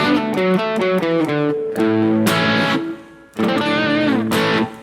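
Crunchy overdriven electric guitar through a Marshall JVM410H amp, playing chords and riffs with a gritty upper-midrange bite, loud and up close, with no other sounds.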